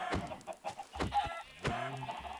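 Several chickens in the Minecraft video game cluck repeatedly in short, close bursts, with one drawn-out squawk near the end and no talking.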